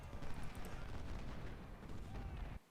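Infantry volley fire in Ultimate General Civil War crackles as dense, rolling musketry with booming bursts, a continuous distant battle clamor that cuts off abruptly at the end.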